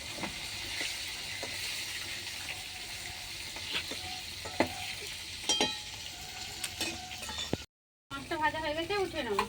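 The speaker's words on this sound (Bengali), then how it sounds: "মাছটা ভাজা হয়ে গেছে" Pieces of rui fish fry in hot oil in a home kitchen, giving a quiet, scattered crackle and sizzle with sharp pops, briefly cut off near the end before faint kitchen noise returns.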